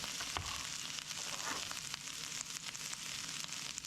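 A leftover potato frying in a hot pan, a constant close sizzle and crackle with a few small clicks and no voices.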